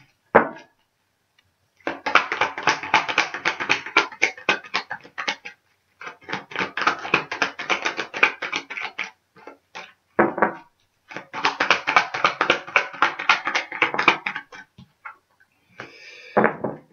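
A deck of tarot cards is handled and split, giving several long runs of rapid, crisp riffling clicks separated by short pauses, close and fairly loud with no talk.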